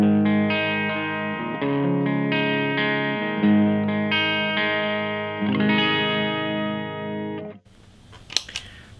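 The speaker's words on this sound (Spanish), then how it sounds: "Luego tengo mi primera ganancia que sería Morning Glory y suena así." Electric guitar driven through a Morning Glory overdrive pedal, playing sustained, harmonically rich chords and notes with a mild crunch for most of the passage, then cutting out to a brief quiet tail with faint noise.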